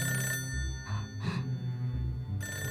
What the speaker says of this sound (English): The phone rings, loud enough to threaten a collapse of the enormous, precariously balanced stacks of paper on her desk